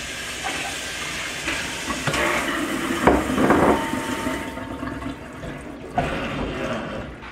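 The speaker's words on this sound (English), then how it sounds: "I'm going to give these herbs a gentle rinse" Fresh herbs are rinsed under a running kitchen tap, a steady close splash and hiss of water that swells and shifts in the middle, then thins out near the end.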